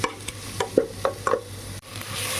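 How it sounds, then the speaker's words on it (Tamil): Garam masala, biryani masala and chilli powder being stir-fried in a pan for vegetable biryani: close spatula scrapes come in a quick uneven rhythm over a steady low sizzle. "கரம் மசாலா, பிரியாணி மசாலா, தென் சில்லி பவுடர் போட்டு நல்லா பச்சை வாசனை போகிற வரைக்கும் வதக்கின்றலாம்."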